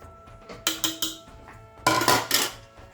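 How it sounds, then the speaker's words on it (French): Utensil scraping and clinking in a pan while tuna is stirred into cooked peppers and onions, two short bursts of metallic clatter close by with quiet pauses between. "On va donc mélanger le thon avec."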